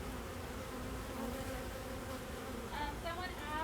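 Honey bees buzzing inside a hive, a faint, steady droning hum from many insects that continues throughout with slight swells.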